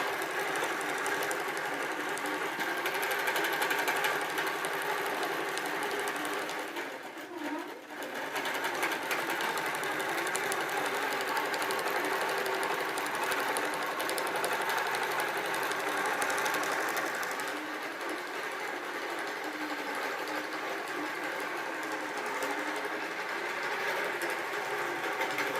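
Sewing machine stitching quilt blocks for a kaleidoscope quilt, a steady rapid mechanical whir close by with one brief pause midway, running almost without break.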